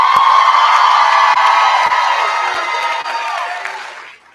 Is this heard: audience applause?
yes